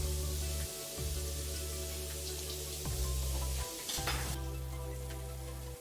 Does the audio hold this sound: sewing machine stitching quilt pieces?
no